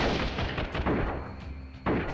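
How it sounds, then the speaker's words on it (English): Gunfire in a battle in the video game Freeman: Guerrilla Warfare: a dense run of loud, overlapping shots and booming bursts, with a sharp fresh volley near the end. "Once an enemy starts firing, your troops usually respond by returning fire"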